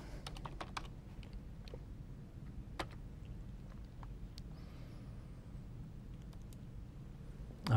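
Sparse, quiet clicks of computer keyboard typing during live Unreal Engine Blueprint coding, irregular keystrokes and short bursts with pauses, heard close against a soft room background.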